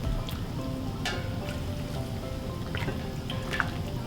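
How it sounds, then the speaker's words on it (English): Hot chicken pho broth ladled into a bowl of noodles and bean sprouts, with faint liquid pours and drips and soft ladle clinks over a low steady kitchen background, and no talk. "I'm gonna pour my ladle in the hot broth"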